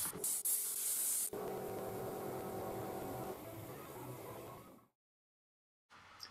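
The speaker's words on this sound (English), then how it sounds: "I'm using a store-bought aerosol in the correct manufacturer colour" A store-bought aerosol spray can of car touch-up paint is used on a bumper repair. A steady close hiss sounds in long bursts, then stops to silence and starts briefly again.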